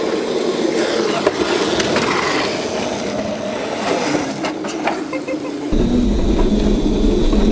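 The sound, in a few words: Drift Crazy Cart being driven fast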